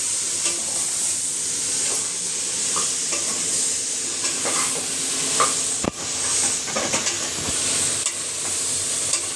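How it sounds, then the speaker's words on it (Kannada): Onion and curry leaves sizzling in hot oil as a tempering in a pan, with a spoon scraping and stirring through the steady frying hiss, close and fairly loud, with a sharper clack near the middle. "ಈಗ ಇದನ್ನೆಲ್ಲ ಒಂದು ಸ್ವಲ್ಪ ಮಿಕ್ಸ್ ಮಾಡ್ಕೊಳ್ಳೋಣ"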